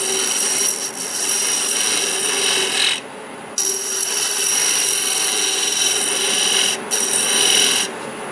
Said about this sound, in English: so I'm going to use the negative rake scraper